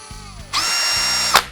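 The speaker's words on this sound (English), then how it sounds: "with up to 40 Nm of torque, it has plenty of power to drill even large holes quickly" A Ryobi ONE+ 18V cordless brushless drill driver spins up loud and close, holding a steady high motor whine for under a second before stopping abruptly with a brief clunk.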